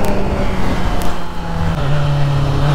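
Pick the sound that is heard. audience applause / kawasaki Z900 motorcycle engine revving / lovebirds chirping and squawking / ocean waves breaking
kawasaki Z900 motorcycle engine revving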